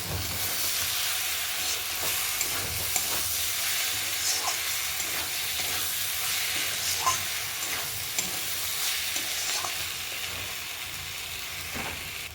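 Cabbage curry being stirred in a pan after a little sugar goes in, a continuous soft sizzle and hiss with scattered light scrapes of a spoon, fairly quiet and even throughout, no talking.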